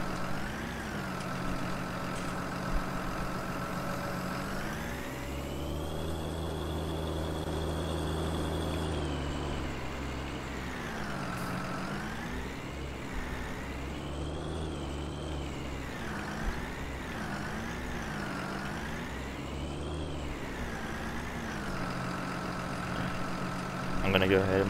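A tractor engine in a farming video game drones steadily, its pitch rising and falling as the revs change, with a low rumble running under it throughout.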